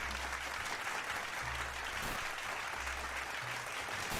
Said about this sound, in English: Round of applause for the dolphin.